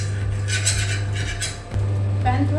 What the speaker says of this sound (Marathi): आता आपण शिगडीवर पॅन ठेवलाय आणि पॅनवर आता आपण तेल सोडायचं आहे